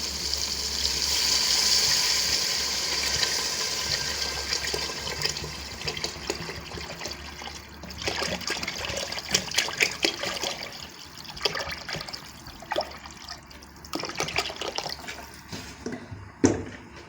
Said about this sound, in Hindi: अब हम इसमें बहुत सारा पानी डालेंगे।